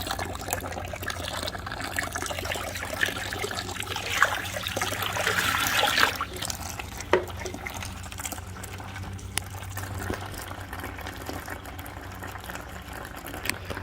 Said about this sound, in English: when you fill this reservoir up, don't use cold water